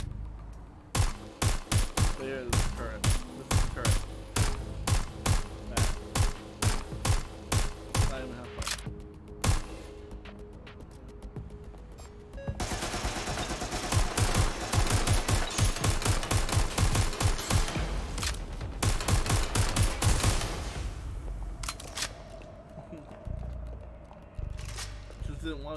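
A turret machine gun in Watch Dogs Legion fires in rapid rhythmic bursts, loud and close, first as evenly spaced shots, then as a dense sustained stream that stops abruptly. A voice talks over parts of it.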